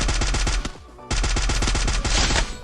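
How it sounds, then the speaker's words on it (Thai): Rapid automatic gunfire in the Free Fire video game, two loud bursts of closely spaced shots separated by a brief pause, dense and close with no speech over it. "ต่อไปยิงแล้วฮะ"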